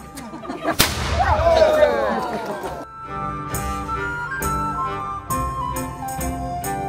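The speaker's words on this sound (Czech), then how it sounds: "Zamířit! Otevře si pánvičku a střílet! Bum! Rána jako blázen!" A single sharp, loud black-powder gunshot cracks out near the start at a historical reenactment event, followed by ringing tones and a rumbling, busy background.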